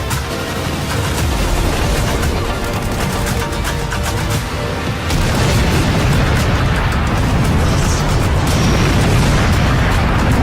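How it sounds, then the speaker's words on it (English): Railgun energy beams fire amid rolling explosions in the video game Just Cause 4, producing loud, continuous booming and crackling blasts that pile over one another without pause, with the intensity swelling again partway through. "the railgun can shoot a powerful beam of energy"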